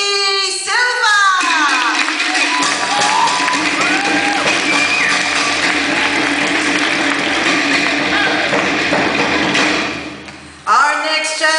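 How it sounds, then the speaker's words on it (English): Crowd at the Mehetia Fete 2011 opening ceremony clapping and cheering as a judge is brought on, a loud, sustained roar of applause with shouts that swells and then drops off sharply near the end. "let's bring her on with a big warm round of applause"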